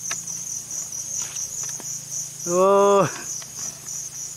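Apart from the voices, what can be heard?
swarm of insects, crickets chirping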